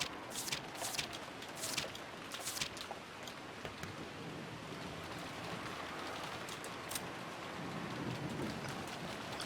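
Steady rain in the visual novel Umineko When They Cry, a soft continuous patter of drops with occasional sharper splashes, moderately faint and without voices.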